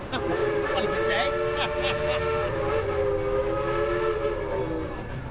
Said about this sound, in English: There's a train again that we've just been on